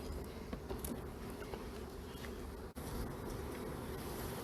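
Honeybees buzzing at an open, queenless hive in spring, a dense and steady hum close by with one brief dropout midway and no talking.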